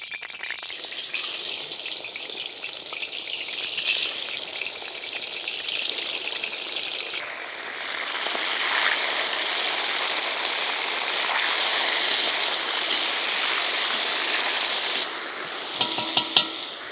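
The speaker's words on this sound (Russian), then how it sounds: "Ах, как зашкварчало." Meat frying in hot oil inside a kazan, a loud, dense, continuous sizzle that swells and crackles steadily throughout, heard close with no talking.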